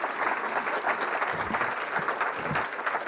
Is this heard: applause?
yes